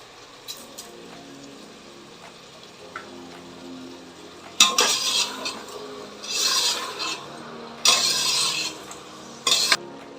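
Onions sautéing with salt for mutton biryani, stirred in the pot: a quiet low simmer at first, then loud scraping, rasping bursts of stirring over a steady sizzle during the second half.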